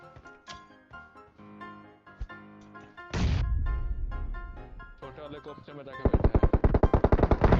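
Gunfire in the video game PUBG Mobile: scattered single shots early on, then a loud, rapid burst of automatic fire near the end, with someone talking over parts of it.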